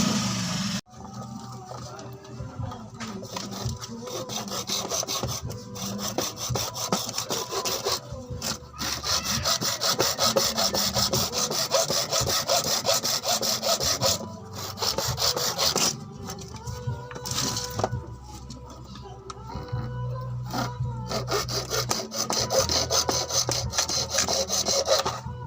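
Sawing through a plastic gear part from a noisy washing machine gearbox, a loud, steady rasping stroke that runs nearly nonstop with brief pauses, close up and alone.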